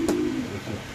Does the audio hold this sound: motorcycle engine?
no